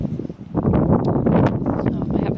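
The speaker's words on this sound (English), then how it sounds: "It's very windy today." Strong wind blows outdoors on a gusty UK day, a dense low rumble of buffeting against the microphone that rises and holds steady for a couple of seconds.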